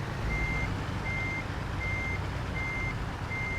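A truck's reversing alarm in the driving game American Truck Simulator, beeping steadily five times in an even rhythm over a low, constant engine rumble.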